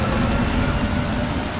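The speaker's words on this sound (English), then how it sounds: "I love when it rains in video games." Steady rain falls in a Mass Effect 2 game scene, a dense, even hiss of drops on surfaces that holds at constant loudness throughout, with no voices.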